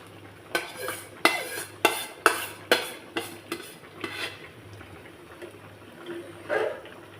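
Hilsa fish is added to a pan with taro roots and gently stirred, a spoon knocking and scraping the pan in a quick run of clinks, then quieter stirring over a low sizzle.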